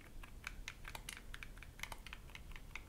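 Keys on a SmartCom Game Boy QWERTY keyboard, typed in a quick, uneven run of faint, close plasticky clicks, no voice.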